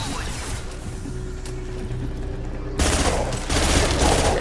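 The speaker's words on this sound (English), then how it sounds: "We're taking heavy fire, but we're moving forward." Heavy gunfire rattles through a Mass Effect 2 battle, a dense continuous barrage that swells louder partway through, with game speech mixed underneath.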